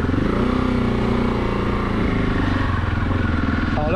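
A single-cylinder KTM 690 Enduro motorcycle engine runs steadily up close, a loud continuous throb with a faint rise in pitch toward the end.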